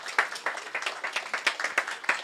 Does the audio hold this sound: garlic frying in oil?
no